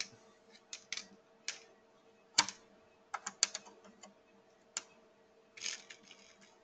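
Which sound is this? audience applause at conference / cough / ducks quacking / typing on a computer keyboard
typing on a computer keyboard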